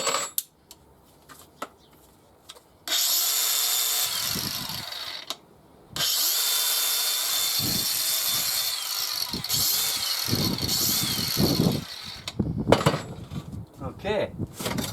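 A DeWalt DCG406 18V cordless angle grinder with a cutting blade fitted spins up loud and close, whining steadily in two long runs separated by a short pause, with brief bursts and clunks around them.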